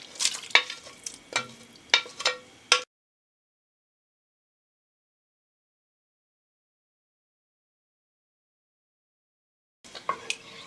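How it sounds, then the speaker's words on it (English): Ginger dropped into a pot holding two quarts of boiling water for homemade ginger ale: close splashes and bubbling for about three seconds, then silence, with a faint return of the same sound near the end. "In this pot, I have 2 quarts of water boiling"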